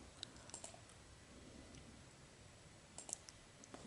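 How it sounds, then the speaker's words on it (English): Several light mouse clicks on a computer, faint and scattered across a quiet stretch, with a small cluster of clicks near the end and no talking. "Let's go ahead and again click on edit, click on remove"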